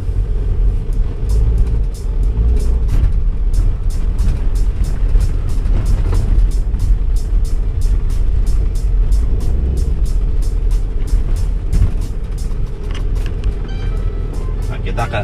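A 1998 Toyota Land Cruiser VXR with a 4200cc turbo engine drives over a damaged, rough road. It makes a continuous low rumble with repeated knocks and clatters, and a person talks over it throughout.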